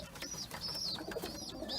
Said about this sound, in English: some of the older young birds are being aggressive against them